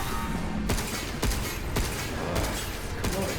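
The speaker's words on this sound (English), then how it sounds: "Okay, we're gonna shoot him" Gunfire from a low-fire-rate, heavy-recoil gun in the video game Pragmata: four or five separate sharp shots spaced about half a second to a second apart, over steady background music.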